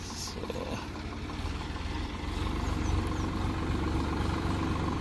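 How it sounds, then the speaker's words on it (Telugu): A tractor engine runs at a steady idle out in farm fields, its low, even rumble close and continuous throughout. "ట్రాక్టర్ అయితే వెళ్తుంది, దుక్కి దున్నడానికి అయితే వెళ్తుంది."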